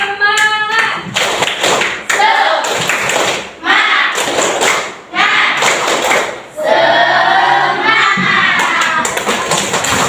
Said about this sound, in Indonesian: sekarang kita tepuk semangat dulu ya, supaya semangat lagi